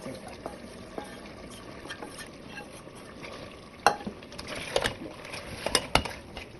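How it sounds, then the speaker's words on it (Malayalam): Ground spice paste goes into a bubbling beef curry. Quiet stirring and a faint sizzle lead into louder wet splashes and spoon scrapes near the end, all close by and free of speech. "ഈ അരപ്പ് നമുക്ക് ഇറച്ചിക്കറിയിലേക്ക് ചേർക്കാം"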